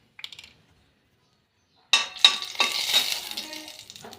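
Black peppercorns hit hot oil for tempering: a small clink, a second of silence, then a sudden loud crackling sizzle that keeps spitting and popping close up for the rest of the clip.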